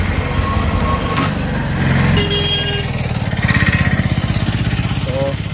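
Bajaj Pulsar NS200 motorcycle engine idling with a steady, loud rhythmic low-frequency throb, a brief rev in the middle, and voices talking over it.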